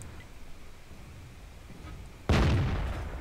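A tank's main gun firing in World of Tanks, a single sudden heavy boom after a quiet stretch of low engine rumble, its blast decaying slowly over the final second.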